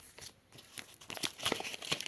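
A paper packet is torn open up close, with crinkling and tearing rustles in short bursts.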